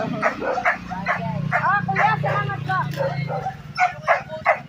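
Dog barking at a farm, repeated sharp yips and barks spread through the clip, close and fairly loud, with people talking over them.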